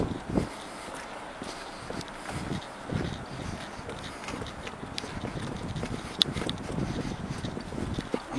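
Footsteps hurrying downhill on a snowy street in Tallinn's old town, quick irregular crunching steps close by, with light wind in the background.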